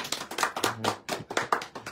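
Several people clap their hands in an uneven, quick rhythm during a Facebook live session, close and bright with no talking over it.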